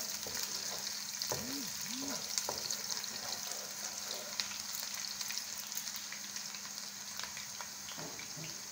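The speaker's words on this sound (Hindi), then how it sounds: "प्याजों को हम ब्राउन होने तक फ्राई करेंगे।" Onions frying in a pan until browned, a steady sizzling hiss running throughout with occasional soft crackles and stirring sounds, no talk.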